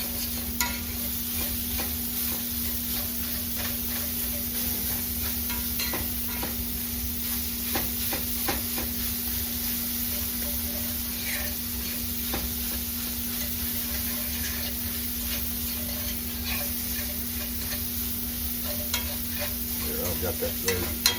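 Old-style breakfast sausage fries in a cast iron pan with a steady, close sizzle for a long stretch, while a utensil breaks it up with frequent scraping and tapping stirs.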